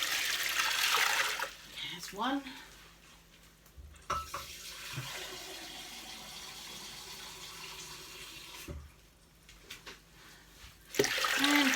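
Water pours and splashes steadily into a slow cooker holding black beans, rising in bursts, while someone speaks briefly over it.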